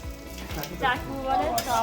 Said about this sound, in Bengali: আর এদিকে দিদি পেঁয়াজি ভাজছে, এখানে চাটুতে করছে দাদা স্টাইল